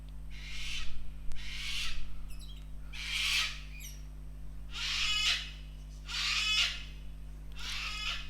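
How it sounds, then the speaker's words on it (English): A pet bird squawks indoors in a series of about six loud, harsh calls, each lasting under a second with short gaps between them, over a steady low electrical hum in a quiet room. "Don't mind the bird."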